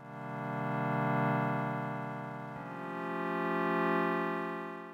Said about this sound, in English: And I also added in this pad sound.